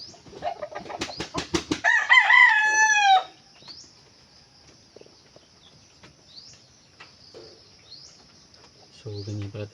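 A rooster crows loudly up close on a farm, followed by quieter scattered chicken clucks and soft bird calls over a calm background.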